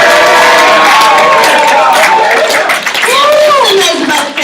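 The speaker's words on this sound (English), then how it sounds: "Let's give him a clap." Loud crowd clapping and cheering at an event, a dense roar of applause with excited whoops and shouts rising over it, close and sustained throughout.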